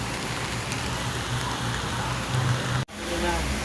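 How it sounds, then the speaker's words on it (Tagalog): Steady rain falling outdoors at night, a loud continuous hiss and patter on surfaces, with a brief dropout near the end before it resumes. "Inabot kami ng ulan."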